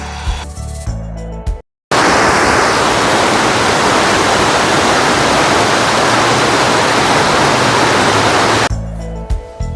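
Rushing water runs high at Indian Springs State Park, a loud, dense, unbroken roar heard close by and alone for several seconds, with brief ambient sounds before and after.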